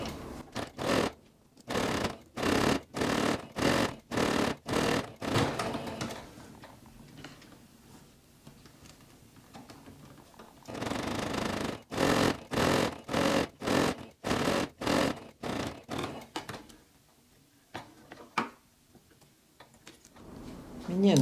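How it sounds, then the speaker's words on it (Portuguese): A sewing machine stitches a close seam around fabric with velcro. It runs in loud, rhythmic rapid bursts, separated by pauses and short reverse stitches. A voice speaks between runs. "Agora vamos passar uma costurinha rente. Começa com retrocesso e termina com retrocesso."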